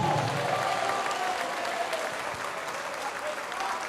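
A church congregation applauds in a dense, sustained wash of clapping that stays fairly loud and even throughout, with a faint murmur of voices underneath.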